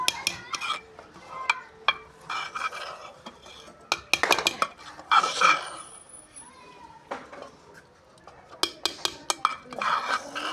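Saag of mustard greens stirred in a pot with a wooden stick, irregular scraping knocks and clinks against the pot in bursts over about ten seconds, close, with a voice speaking in between.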